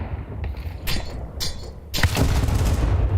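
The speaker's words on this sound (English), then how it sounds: "commitment from Spinks, but great control of his AK" Rifle fire from an AK in a Counter-Strike match, heard as several sharp bursts of shots spaced across a few seconds, ending in a louder, sustained volley over a dense game background.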